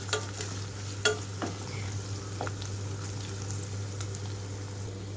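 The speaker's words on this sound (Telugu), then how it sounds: "పేస్ట్ వేసిన తర్వాత 2-3 నిమిషాలు పచ్చి వాసన పోయే వరకు వేయించుకోవాలి" Ginger garlic paste fries in a pan with a steady sizzle and occasional scraping stirs and light pops, close and continuous under a low constant hum, no one speaking.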